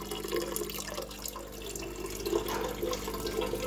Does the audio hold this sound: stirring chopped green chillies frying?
no